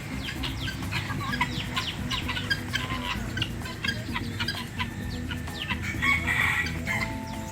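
Several hens cluck busily nearby while a rooster crows, a lively farmyard chorus with overlapping calls and no speech, at Tha Lat open zoo, Nakhon Si Thammarat, Thailand.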